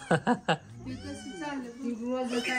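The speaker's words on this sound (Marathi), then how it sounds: "ए श्री बाळा ते मांजराला दूध ठेवा." After a few short knocks, a cat lets out a drawn-out, wavering meow close by, rising and falling in pitch.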